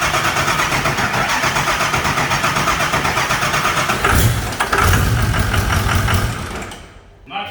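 A 6.0 Powerstroke diesel V8 swapped into a Mustang, hard to start and helped with a gas rag, cranks with a fast steady rhythmic churn for several seconds, then briefly catches and fades out; loud and close, with no talk.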